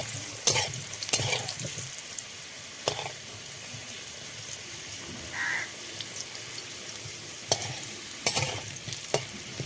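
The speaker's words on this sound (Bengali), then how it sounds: "সামান্য একটু হলুদ গুঁড়ো দিয়ে আলুটা ভেজে নিলাম" Soft sizzling of potatoes frying with a little turmeric in a wok, broken by several sharp scraping stirs and clinks at irregular intervals, no talking.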